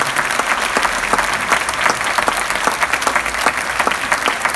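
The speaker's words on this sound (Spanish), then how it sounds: "el aplauso para Sergio Denis, que se va a recuperar." A theatre audience in Tucumán applauds during a tribute show, a loud, dense wash of clapping that holds steady throughout, with no one speaking over it.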